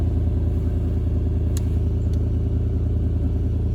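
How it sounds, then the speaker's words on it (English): A 2004 Toyota 4Runner engine with a mass airflow fault runs at a steady idle, a low continuous hum close by, with two faint clicks partway through. "Let me see if it'll let me reset it while its engine's running."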